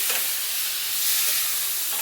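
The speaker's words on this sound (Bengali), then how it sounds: "এরপর ওই তেলের মধ্যেই আমরা ভেজে নেব চিংড়ি মাছ।" About 300 grams of prawns fry in hot oil in a Bengali kitchen, giving a steady, close hiss and sizzle with no voices over it.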